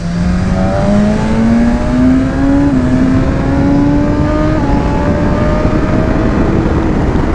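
A motorcycle engine howls continuously on a race circuit, loud and close, its pitch climbing steadily through the gears with brief dips between shifts.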